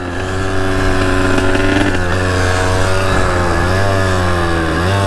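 Loud, close Kawasaki KX 85 dirt bike engine revving with a buzzy two-stroke tone, holding high and wavering in pitch before dropping and climbing again near the end, with no talking.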